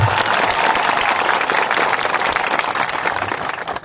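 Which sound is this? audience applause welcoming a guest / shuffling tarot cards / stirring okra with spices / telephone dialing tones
audience applause welcoming a guest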